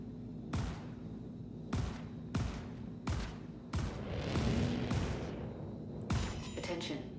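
A Drake Dragonfly ship's weapons firing in the Star Citizen video game, a series of sharp blasts in uneven bursts of about eight shots, close and punchy over a faint background hum, with no talking.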